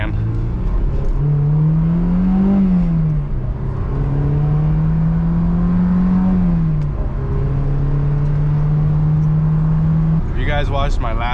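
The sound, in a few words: Honda S2000 car engine while driving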